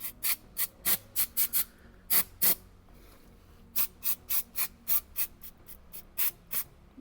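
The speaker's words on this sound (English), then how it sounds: "I will also spray some brake cleaner to ensure that" Brake cleaner sprayed in short hissing bursts onto a Skoda Rapid 1.0 TSI engine part during an oil change, about a dozen sharp, close, loud spurts in two uneven runs separated by a brief pause.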